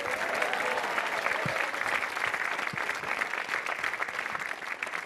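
A studio audience at a Metro TV stand-up comedy show bursts into loud, dense applause that holds steady throughout, filling the room with continuous clapping.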